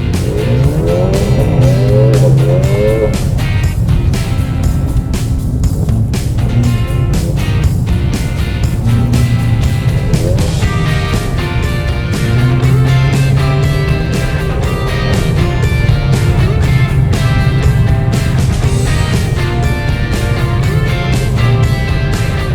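Mercedes-AMG car drifting on ice through a gymkhana course, engine loudly revving and surging in repeated waves with rising and falling pitch, close and continuous throughout.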